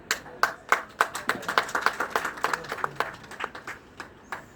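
Audience applause at a talk on Urdu journalism, a crowd clapping in an uneven burst of sharp overlapping claps, fairly close, tapering off toward the end.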